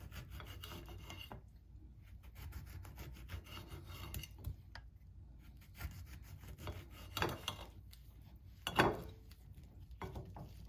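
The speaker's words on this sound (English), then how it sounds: "Next is the Navel Orange. Again, very thin slices." Knife slicing a navel orange into very thin slices on a board for sangria punch, giving soft, repeated rubbing and rasping cuts with occasional light taps, quiet and close.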